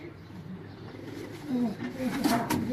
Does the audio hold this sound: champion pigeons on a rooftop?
yes